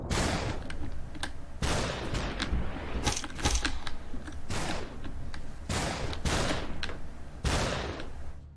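Bursts of gunfire in the Superhot video game as enemies accidentally shoot each other, with several loud, sharp shots spaced irregularly over a steady background and no talking.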